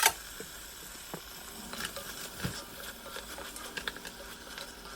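Meat cooks in a pot for potato stew, giving a faint, soft sizzle and patter with a few sparse crackles and light stirring sounds, quiet and close.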